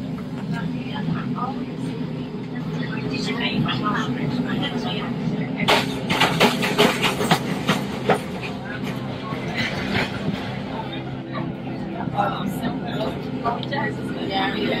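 A Melbourne City Circle Tram 35 arrives at Flinders Street Station with a low rumbling rolling sound, a burst of rattling and squealing in the middle, and a voice talking over it throughout.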